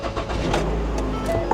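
A Honda Odyssey van engine cranks and catches in a brief, low rumbling start, close by and fairly quiet with no voices.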